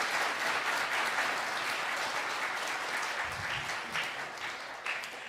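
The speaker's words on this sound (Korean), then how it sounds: "우리 환영에 박수로 환영을 했으면 좋겠습니다" Church congregation at a Sunday morning service in Osong applauds to welcome members, a steady dense round of clapping filling the room throughout, tapering only slightly near the end.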